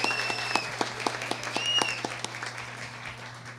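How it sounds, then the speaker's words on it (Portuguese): Scattered clapping rises from the floor of a legislative assembly's solemn session, a few loud distinct claps over a softer spread of hands, set against a steady low electrical hum and faint voices. "uma salva de palmas ao João Bosco"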